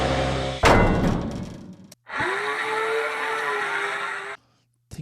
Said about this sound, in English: This is the sound of the door open.